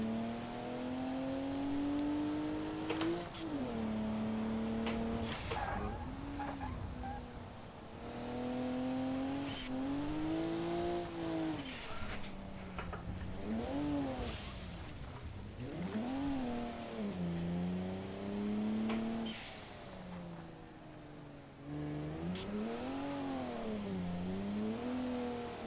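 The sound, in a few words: car driving on touge road in racing video game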